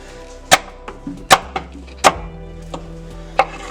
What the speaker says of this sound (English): let's try to cut some potatoes up here with it and see how it does